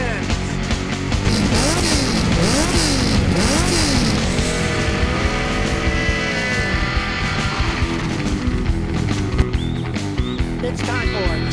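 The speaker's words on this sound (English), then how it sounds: "Rev up your engine!" Engine revving in a loud burst, rising and falling in sweeping pitch before settling into a steady roar, with mechanical clatter and a voice over it.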